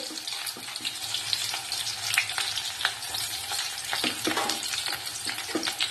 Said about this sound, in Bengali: পেঁয়াজটা দিয়ে ভালো করে নাড়াচাড়া করে নেবো, ভাজা ভাজা করে।